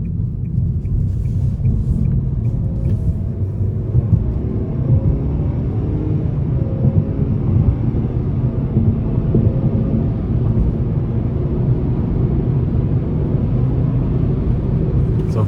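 A 2024 Nissan Sentra SR with a 2.0-litre CVT accelerates hard in sport mode. A loud, steady engine drone and road rumble fill the cabin without a break.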